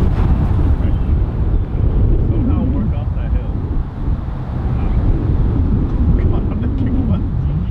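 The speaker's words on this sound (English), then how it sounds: "Wind is just pretty hard off the right." Strong wind on an open golf course buffeting the microphone, a loud continuous low roar with gusty swells, and faint voices beneath.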